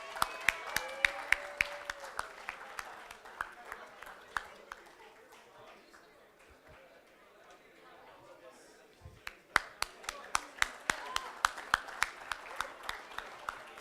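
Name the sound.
audience applauding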